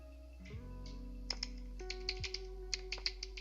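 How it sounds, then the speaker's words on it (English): A wireless 2.4 GHz computer keyboard clicks as someone types, a quick irregular run of close, crisp keystrokes over a low background hum. "Listen to the sounds of this keyboard."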